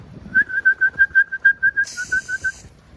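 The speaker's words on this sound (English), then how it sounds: "I use the same whistle for my dogs as my pigeons" A sharp, high whistle calling pigeons, blown in a rapid series of about fifteen short, evenly spaced bursts, with a brief shrill hiss joining near the end.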